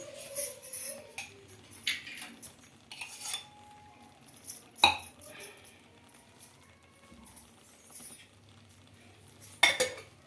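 Pongal being stirred in a pressure cooker with a spoon after pepper and ghee go in, giving intermittent metallic scrapes and clinks at a steady, unhurried pace, with a few sharper knocks standing out.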